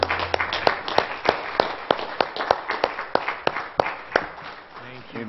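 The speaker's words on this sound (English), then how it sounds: "Give Him a hand clap of praise." A Pentecostal church congregation claps in praise, with sharp, distinct handclaps scattered irregularly over a few seconds against a quieter background murmur.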